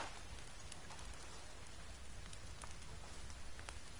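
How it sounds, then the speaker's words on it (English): Rain falls in a forest, a faint, steady hiss of drops on surfaces with occasional sharper patters, continuous and without talk. "It's fucking raining."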